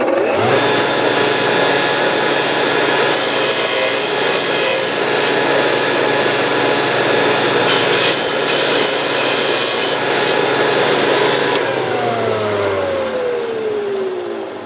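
Steady, continuous abrasive rubbing on a wooden mandolin bridge, loud and close, running unbroken for the whole stretch with a faint tonal whine fading near the end.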